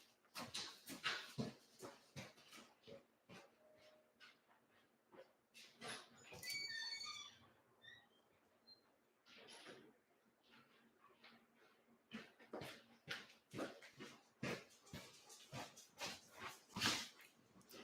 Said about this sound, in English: I'm going to go let my dog in.